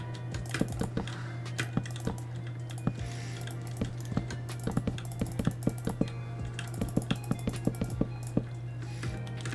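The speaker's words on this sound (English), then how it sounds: "see how like I'm jitter clicking and I can aim, but not really" A computer mouse is jitter clicked during Minecraft PVP play, producing rapid, irregular bursts of sharp, close clicks over a low steady hum.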